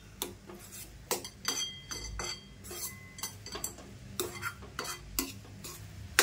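Jaggery sheera being stirred in a pan, a quiet run of scraping spoon strokes and light clinks in an irregular rhythm, close by, with a faint sizzle underneath.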